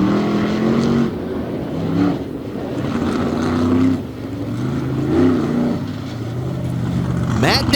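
Loud, roaring monster-truck engine from the Raminator, a Ram Trucks machine out of Champaign, Illinois, revving during a freestyle run at an arena event in Indy, rising and falling under continuous commentator talk.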